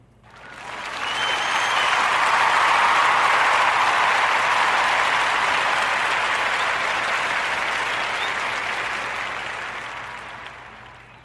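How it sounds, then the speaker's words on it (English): Sustained applause from a studio audience on a podcast, dense clapping swelling quickly and holding steady for about ten seconds before tapering off, with no talking over it. "join me into giving the Warm Narrative podcast round of applause to our sister, Stephanie Sinclair"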